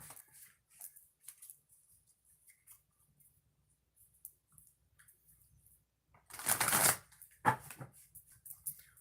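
A deck of oracle cards is shuffled, making soft, scattered riffling sounds that build to a louder burst of flicking and shuffling near the end, close to the microphone with no talking.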